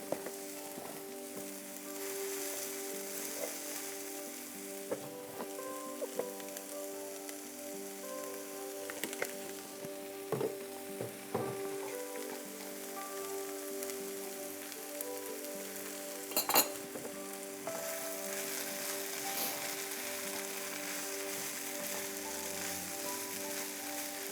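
A breakfast scramble with colorful peppers fries in oil in a pan, a soft, steady crackling sizzle broken by a few light clinks, with no one speaking.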